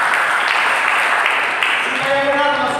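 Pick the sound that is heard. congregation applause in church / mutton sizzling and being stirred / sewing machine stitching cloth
congregation applause in church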